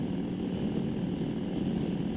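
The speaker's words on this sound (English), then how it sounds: "if I just tickle the throttle at the bottom, the bike is happy" Harley Davidson motorcycle engine fitted with homemade carburettor jets, running steadily with light throttle blips, a constant low rumbling drone up close with no backfires.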